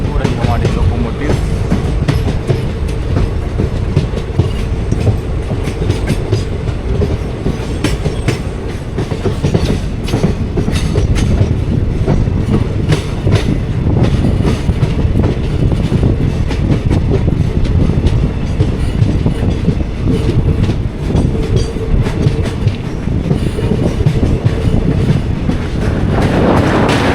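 A passenger train on the Bangalore to Mangalore line through the Western Ghats rumbles steadily with rhythmic clickety-clack of wheels on rail joints, loud and close from inside a carriage, with faint voices underneath.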